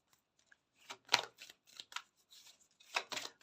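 Tarot cards shuffled and drawn by hand, a series of soft crisp riffles and slaps in short bursts, close and quiet.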